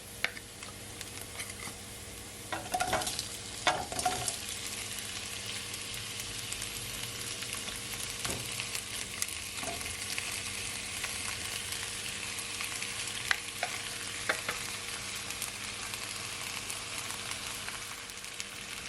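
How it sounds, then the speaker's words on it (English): Shrimp for Jamaican pepper shrimp sauté over medium heat in a pan, giving a steady close sizzle with occasional crackles and light clicks of stirring, with no talking. "And now I'm gonna add my shrimp."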